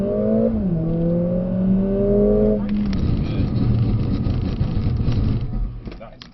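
A Mercedes CLA45s/A45s on a track brakes hard from high speed in comfort mode: a loud engine note drops sharply, then gives way to a rough, broad roar of tyres and road that fades toward the end.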